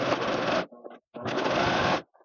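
A sewing machine stitches fabric for a jumpsuit in two loud, close bursts of steady whirring with a short pause between them, and faint quiet sounds follow.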